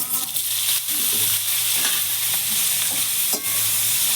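Chopped bottle gourd hits hot oil seasoned with bay leaf, dried chilli and black cumin, giving a loud, steady sizzle. A spatula scrapes and stirs through it in repeated strokes.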